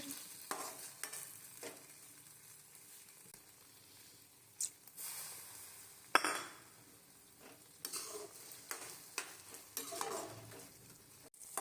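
Vegetables and ketchup for chicken jalfrezi stir and cook in a pan, a soft steady sizzle broken by scattered scrapes and clinks of a utensil against the metal, close and fairly quiet with no voices.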